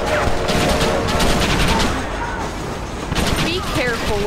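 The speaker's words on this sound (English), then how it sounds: "Be careful where you're shooting." Gunfire in Red Dead Redemption, a dense, continuous chatter of rapid shots and bangs heard close and loud under voices talking throughout.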